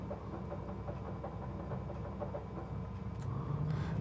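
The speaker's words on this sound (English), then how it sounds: "and then what we'll do is we'll crank the other engine" A twin-engine Piper PA34 Seneca V in a flight simulator has one engine idling steadily with a low, rhythmic throb, and the second engine's start builds in louder toward the end.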